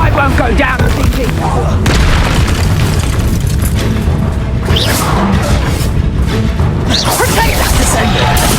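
Confringo blasting spell in Hogwarts Legacy, loud booming explosions piled into a constant, saturated barrage of battle noise with crashes and bursts, and a voice shouting over the top.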